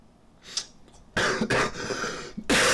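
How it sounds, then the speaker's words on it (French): A person coughs close by, a short burst of rough coughs that ends the clip, after a quieter stretch with a faint sound near its start. "Pardon, je tousse."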